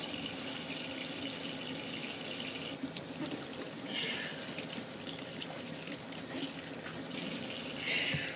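Tap water runs steadily into a sink while a green pepper is rinsed beneath it, a continuous close splashing rush with faint shifts as the pepper is turned.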